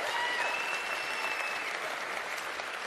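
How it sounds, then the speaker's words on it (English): A large crowd at a political rally applauds for Planned Parenthood, a broad, even wash of clapping heard from a distance, with faint whistles ringing out over it. "we can do a round of applause for Planned Parenthood."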